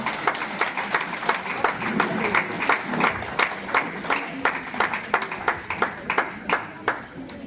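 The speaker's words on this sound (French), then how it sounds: "On l'applaudit fort." An audience applauds a retiring worker at a workers' medal ceremony with brisk, steady clapping from a room full of people, with some voices mixed in beneath.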